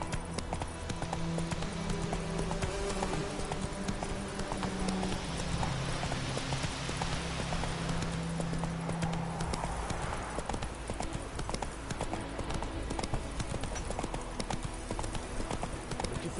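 A horse gallops in the video game The Witcher 3, its steady clip-clop hoofbeats rolling continuously at close range over a soft background of music and ambience.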